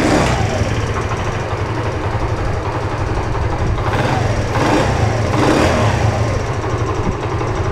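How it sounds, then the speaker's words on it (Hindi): A newly assembled Hero 70cc motorcycle engine runs steadily at close range, a continuous chugging rumble with a few brief revs rising over it. "अब हम मोटर बाइक को करते हैं स्टार्ट करके अब इसका साउंड सुनते हैं।"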